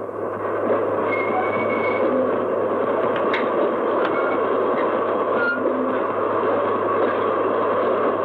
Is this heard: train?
yes